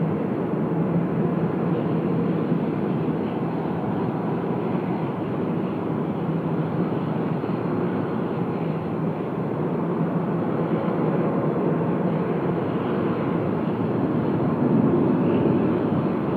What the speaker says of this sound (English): Lovely long takeoff roll as well.